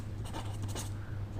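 Chalk or marker scratching across a board during a Hindi physics lesson on Ohm's law, a short run of close, dry strokes over a steady low hum, with no talking.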